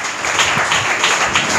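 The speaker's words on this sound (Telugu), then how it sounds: "గట్టిగా చప్పట్లు కొట్టండి" Church congregation clapping loudly together in praise, a dense burst of applause filling the hall.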